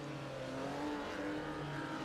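Engines of 1948 Formula 2 race cars in a racing video game drone steadily with sustained harmonic tones, a dense continuous roar of several cars at moderate level without pauses.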